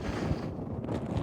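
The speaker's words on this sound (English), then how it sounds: "Sorry about the wind, guys" Wind buffeting a microphone on a hiking trail, a continuous low rumbling roar with gusty swells throughout, loud and close with no voices.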